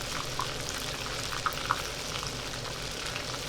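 Food frying in a pan while being flipped, a steady close sizzle with a few sharp crackles and pops.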